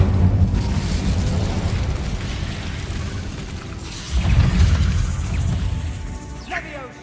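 An Incendio fire spell erupts in the Hogwarts Legacy video game with a loud, rumbling burst. A second swell of booming noise follows, set against continuous dense game ambience.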